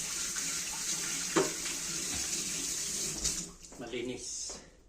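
A faucet runs steadily into a kitchen sink while food is washed under it, a loud close hiss of water that cuts off near the end, with light splashes and handling.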